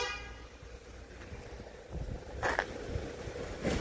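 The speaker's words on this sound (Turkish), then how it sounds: "Korna şimdi korna kontrolü" Against a steady wash of traffic and engine noise, a car horn gives a couple of short toots during a vehicle inspection check in Germany.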